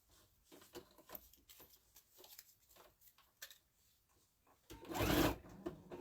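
A sewing machine with a size 100 needle stitching through thick layers of a scalloped bag, soft uneven mechanical chatter in short bursts, quiet and close, ending in a louder rustling burst near the end.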